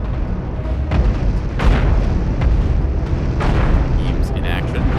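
Weapons firing and explosions in the space combat game Cosmoteer, loud repeated booms and bursts layered over a continuous roaring rumble, with a few sharp blasts and zapping tones.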